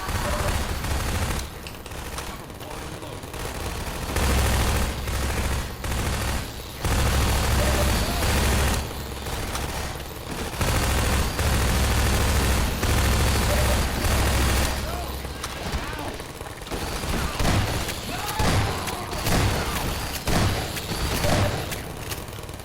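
Loud video-game gunfire with defensive turrets nearby, heard as repeated broadband volleys and bursts across most of the clip, dipping briefly between salvos, with faint voices underneath at times.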